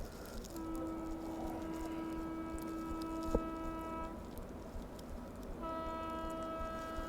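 Tejas Rajdhani Express on the main line overtaking the Magadh Express in thick fog, a sustained horn with harmonic tones blaring twice over steady rumbling rail noise, a sharp clack in between, fairly close.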